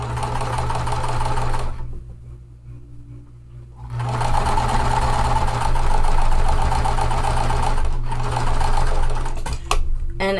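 A sewing machine chain-pieces cotton quilt pieces, running in steady rapid stitching bursts with a brief pause between seams, close and clear without any voices.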